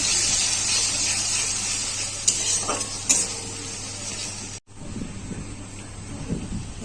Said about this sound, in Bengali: এবার আমি আদা রসুনের পেস্টটা দিয়ে দেবো। আদা রসুন পেঁয়াজ টমেটো সবই আছে, মধ্যে দিয়ে দেবো কড়াতে।